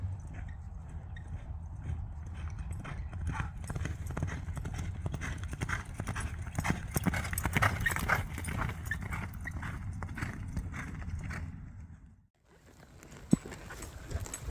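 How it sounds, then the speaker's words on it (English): A Spanish horse ridden by a cowboy at the Angelina River, its hooves clip-clopping steadily under a dense, continuous wash of ambient noise that cuts out briefly near the end. "This cowboy and his Spanish horse are gonna rest right there at the Angelina River"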